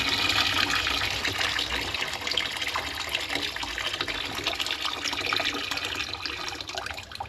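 Hot water gushes steadily from a tap into a sink where doors are being soaked, a continuous splashing flow heard close up without any talk.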